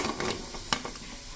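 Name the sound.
paneer fingers deep-frying in oil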